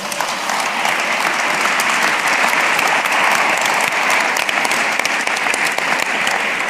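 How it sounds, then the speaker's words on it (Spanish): Sustained audience applause closing a round-table panel at a ministry of agriculture event launching a national food strategy, a loud, dense wash of clapping that holds steady throughout without pause. "Yo creo que un fuerte aplauso para todos."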